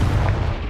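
Confringo explosive spell going off in Hogwarts Legacy, a short heavy booming blast with deep low rumble, loud and close, lasting well under a second.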